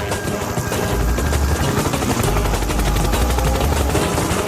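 A helicopter roars past with a dense, steady wash of rotor and engine noise and a low, choppy throbbing underneath, loud and continuous with no voices.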